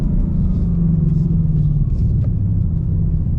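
A 2020 Ford Shelby GT500 at a drag racing event at Sonoma Raceway gives a steady, loud, low engine rumble that holds for the whole stretch, with no talk over it.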